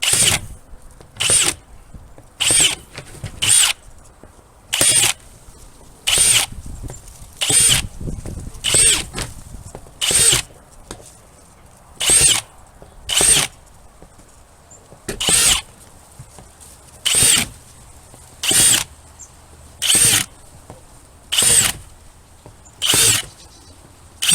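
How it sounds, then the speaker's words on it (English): An electric drill whirs in repeated short bursts while drilling holes in a worm bin, about a dozen and a half evenly spaced runs with brief pauses between, loud and close. "to put those holes in there, we're going to use a drill"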